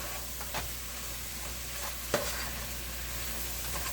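Pancit bihon ingredients with carrots being stirred in a hot pan, a low continuous sizzle broken by a few soft scraping strokes and one sharp clink.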